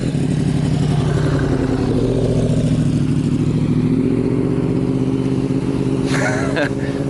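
Yamaha R1 and R6 crossplane sport motorcycles idle and rumble nearby with a steady, uneven engine burble, mixed under ongoing conversation and street noise, with a brief brighter mechanical burst near the end.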